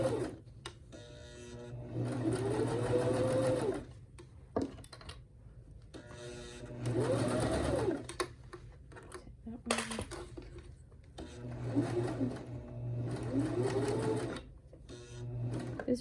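A sewing machine stitches a purse bag cover in repeated bursts of fast, whirring mechanical rattling separated by short pauses, while a person talks quietly between and over the runs.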